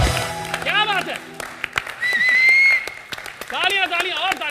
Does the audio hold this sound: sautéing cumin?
no